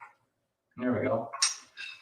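Metal washers clink against a slightly magnetized metal piece while a trap bar is assembled, giving a few close, faint bright rattling chinks after a short rustle of movement.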